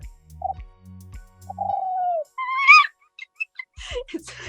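A human voice imitates bird calls, giving a string of short whistled, cooing and warbling notes with gaps between them, close and fairly clear.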